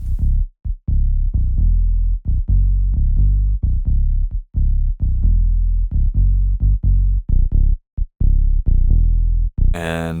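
A minimal tech house bass line with EQ applied in Ableton Live, a rapid run of deep, warm, punchy notes repeating steadily and loud for several seconds, ending with a brief brighter burst.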